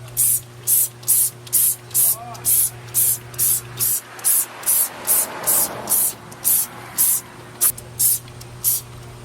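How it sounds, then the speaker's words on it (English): Wheel cleaner sprayed onto the rims of a 2019 widebody Scat Pack car in a rapid series of about twenty short, bright hissing bursts with brief gaps, close and loud, and a steady low hum running underneath. "I'll just spray it after I rinse it."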